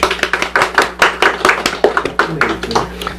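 A small church congregation claps at a first-anniversary Sunday service, close rhythmic clapping with distinct sharp hits and a few voices mixed in.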